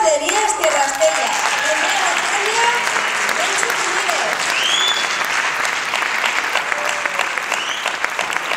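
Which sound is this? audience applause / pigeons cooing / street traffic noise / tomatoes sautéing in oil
audience applause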